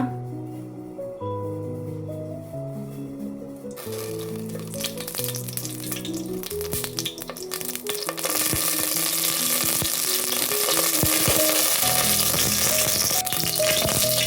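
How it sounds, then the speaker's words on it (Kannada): Dry fruits fry in hot ghee in a pan for poppy-seed payasam. A tonal melody plays first, then a sizzle builds and turns loud and crackling in the second half. "ಡ್ರೈ ಫ್ರೂಟ್ಸ್ ಚೆನ್ನಾಗಿ ಫ್ರೈ ಆಗಲಿ ತುಪ್ಪದಲ್ಲಿ"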